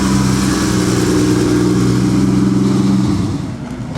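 A vintage Ferrari race car engine at the Mille Miglia road race, a loud close droning rumble holding steady, then fading quickly as the car moves off.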